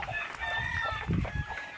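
Chickens cluck in a low, busy murmur while a rooster's crow rises above them, close and steady throughout.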